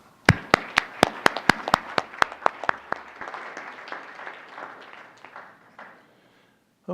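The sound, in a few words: audience applause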